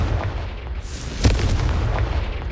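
A blasting spell detonates in Hogwarts Legacy on PS5 with a single sharp boom near the middle, rising out of a steady low game rumble and ambience.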